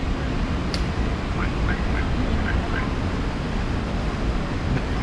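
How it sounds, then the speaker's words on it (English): A few soft duck quacks repeat in a loose series over a constant loud wash of wind and water noise along the San Antonio Riverwalk. "Big old duck."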